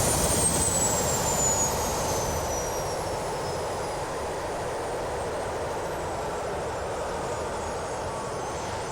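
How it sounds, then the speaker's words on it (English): A Bell 407 helicopter's engine shutdown in Microsoft Flight Simulator 2024: turbine whine winds down with a falling pitch while the engine rumble gradually fades, steady and continuous without any speech. "there's the engine shutdown sound"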